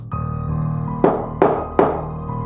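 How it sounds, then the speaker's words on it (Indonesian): Three sharp knocks on a door in a quick, evenly spaced series, loud and close, over a steady low background hum. "Tiba-tiba, dia ngedenger pintunya diketok."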